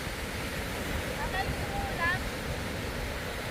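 Broad, steady wash of surf at Tondaligan Beach in Bonuan, Dagupan City, Pangasinan, big ocean waves rolling in under constant noise, with a few faint voices or calls briefly audible over it.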